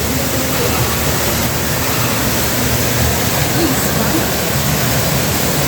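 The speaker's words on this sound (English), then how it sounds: "Water passing there." Loud, constant rush of flowing water filling the whole clip, a dense broadband roar like a nearby waterfall or stream, in an outdoor exhibit at the Texas State Aquarium, Corpus Christi.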